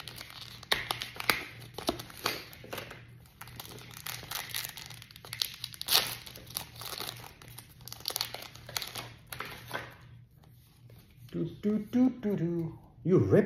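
Foil booster packs for the Dragon Master Magia trading card game are torn open and crinkled by hand at close range in a series of sharp rips and rustles, with people talking over them throughout.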